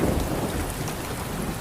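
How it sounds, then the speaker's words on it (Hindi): Heavy rain pours steadily over a forest with a deep rumble of thunder underneath, a dense continuous roar with no voices. "आज सुबह से ही जंगल में लगातार तूफानी बारिशें हो रही थीं।"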